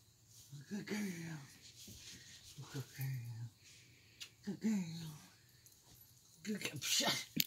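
A dog breathes heavily with a toy held in her open mouth, giving quick wheezy, snuffly breaths in bursts close to the microphone, while a person talks over parts of it.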